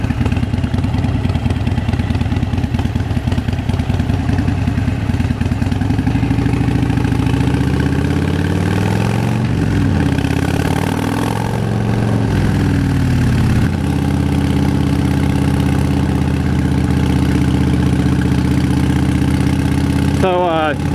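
Harley-Davidson Fat Bob motorcycle engine idling loud and close in a steady low throb, with a brief rise in pitch midway and a short rattle near the end.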